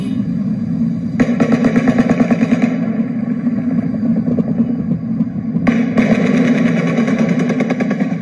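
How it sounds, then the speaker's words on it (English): Distant automatic gunfire rattles in two long rapid bursts over a constant low rumble outdoors. "we're going to go return to the outdoor gunfire"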